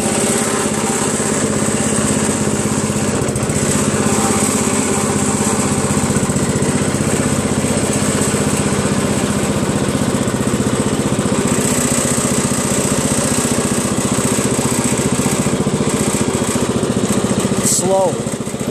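A Craftsman lawn tractor's small engine runs at a steady, continuous drone close by for the whole stretch, with a brief higher rattle near the end.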